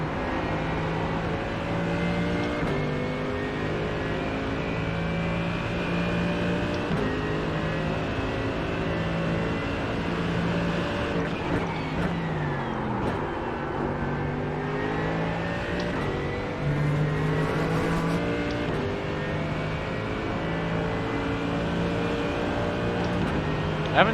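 Race car engine droning steadily in the iRacing sim at Watkins Glen during an IMSA race, revs rising and dipping through gear changes and braking with a sharp drop around mid-run, loud and continuous throughout.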